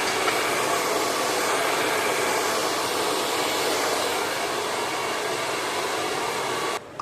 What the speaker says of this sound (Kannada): ಅದಕ್ಕೋಸ್ಕರ ನಾನು ಹೇರ್ನ ಬ್ಲೋ ಡ್ರೈ ಮಾಡ್ಕೊಳ್ತಾ ಇದ್ದೀನಿ